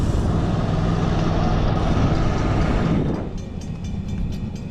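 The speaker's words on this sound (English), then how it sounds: "Coming on the inside track, we have a beautiful Atlantic type locomotive in Daylight Scheme." A live steam model Atlantic type locomotive in Daylight Scheme runs along a ridable backyard track, giving a loud, steady rumble and rolling wheel noise that eases off partway through, with faint ticking clicks near the end.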